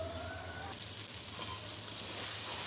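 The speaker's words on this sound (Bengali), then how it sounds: "এই টমেটোটা সুন্দর মতো সফট হয়ে আসা পর্যন্ত মশলাটা আমি কষিয়ে নেব।" Masala and tomatoes frying in a pan until soft, a dense close sizzle with occasional stirring scrapes, steady and uninterrupted, no talking.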